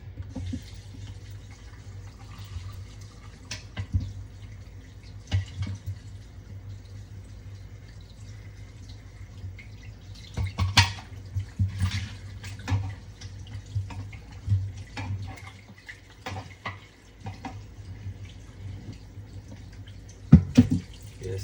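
Tap water trickles and splashes intermittently as jerk chicken meat is rinsed in a sink, a quiet, uneven flow broken by occasional louder splashes and clatters.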